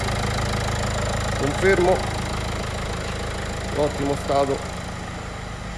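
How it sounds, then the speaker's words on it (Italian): A Renault Clio Sporter 1.5 dCi 75 hp diesel idles with a steady, even hum and a faint, regular clatter, while someone speaks Italian over it in short phrases. "motore silenzioso, ben equilibrato, asciutto"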